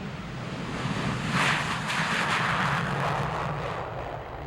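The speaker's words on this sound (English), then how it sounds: "from the Grim Reapers, the F-14 Tomcat." Grumman F-14 Tomcat jet from the Grim Reapers squadron at the 1997 Wings of Eagles air show, a distant, steady roar of jet engines swelling and easing as it passes, mixed with wind noise.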